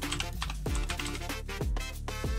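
Rapid keystrokes on a computer keyboard clatter steadily and close up as a name is typed into a field, dense clicking with background music running underneath.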